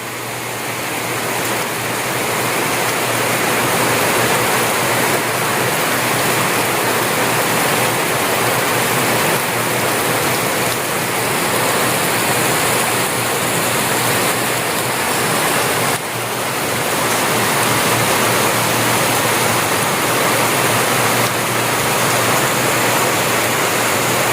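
Steady, heavy rainfall pours down outdoors, a dense continuous hiss that holds loud and unbroken throughout with no voices.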